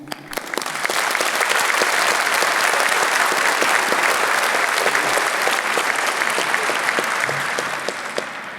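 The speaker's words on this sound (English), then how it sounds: "Please join me in a round of applause for Beverly O'Connor, our esteemed name reader" A graduation ceremony audience applauds a name reader, a loud, sustained wash of many clapping hands filling the hall without pause for the whole stretch, easing slightly at the end.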